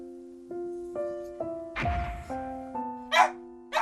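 A small dog kept indoors barks repeatedly in short, regular, tonal yelps spaced about half a second apart, with a brief scuffle of movement midway and a couple of higher-pitched yips near the end.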